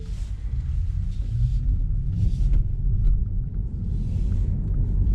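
A steady, deep road rumble fills the cabin of a car gaining speed on a 30 mph road, continuous and even throughout with no voices.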